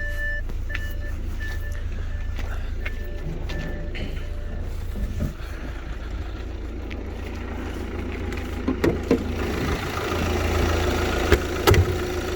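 An Audi A6 2-liter diesel engine with a glow plug and turbo boost sensor fault idles steadily with a low, constant rumble, joined by faint clicks and a few sharper knocks toward the end.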